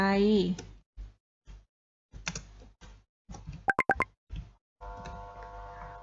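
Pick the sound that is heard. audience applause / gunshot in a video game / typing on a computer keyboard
typing on a computer keyboard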